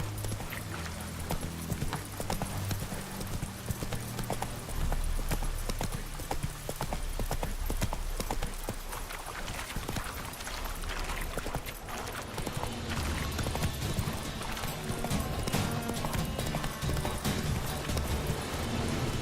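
Roach, the horse in Witcher 3, gallops at full speed, a continuous, rapid clip-clop of hooves close by over a dense background of game ambience and music lasting the whole stretch.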